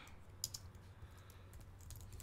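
Quiet, close keyboard typing on a computer: a handful of light key clicks scattered over low background hum.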